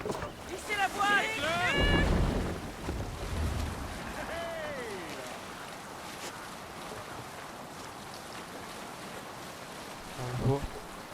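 Sailing ship out on the sea in Assassin's Creed Valhalla, with a constant wash of wind and waves. Voices call out briefly near the start.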